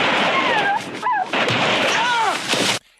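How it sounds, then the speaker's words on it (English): Gunfire and yelping dogs from the film First Blood: loud broadband cracks with several rising and falling whines over dense noise, then a sudden drop to near silence at the end. "We get a couple of gunshots and a couple of dogs yelping and then silence."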